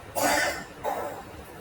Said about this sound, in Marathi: प्लीज इग्नोर करा हा खोकल्याचा आवाज आजी खोकलते